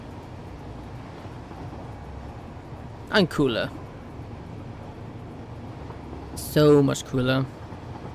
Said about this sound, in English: Using a train is so much faster.